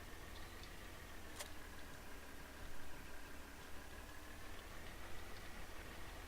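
A tractor in Farming Simulator 2013 runs at a low, steady idle, its engine drone faint and even throughout. A single light tick sounds early on.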